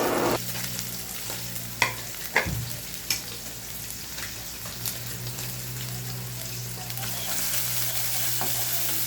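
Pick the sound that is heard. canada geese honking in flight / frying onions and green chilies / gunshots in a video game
frying onions and green chilies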